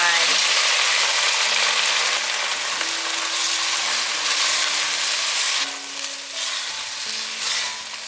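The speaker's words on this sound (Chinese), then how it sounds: "拌炒一下，把黑木耳放进来" Wood ear mushrooms stir-fried in a wok after about 200cc of water went in, giving a steady, loud broadband sizzle and hiss with scraping stir noises and faint tonal hum throughout, with no voice.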